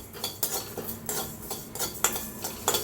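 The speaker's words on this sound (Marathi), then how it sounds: "आता गॅसवर ठेवलेले आहे कढाई, मसाले आपण भाजून घेणार आहे" A spatula scrapes and clinks against a kadhai on a gas stove as a small quantity of fennel seeds is dry-roasted, with a series of sharp, close metallic strokes at an uneven stirring rhythm.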